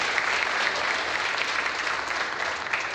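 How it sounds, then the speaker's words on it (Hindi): Loud, sustained applause from an audience at a business event in India, a steady dense clatter of many hands filling the whole stretch without any talk. "इनके लिए जोरदार ताली होनी चाहिए।"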